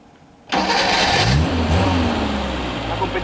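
A GME Rascal engine cranks and catches abruptly, then settles into a loud, steady mid-pitched idle with a brief rev early on, close up and dominating the sound.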